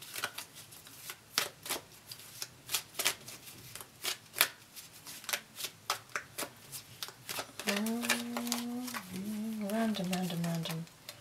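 Tarot cards are shuffled in a rapid series of crisp riffles and flicks, close and fairly quiet. A voice begins speaking near the end.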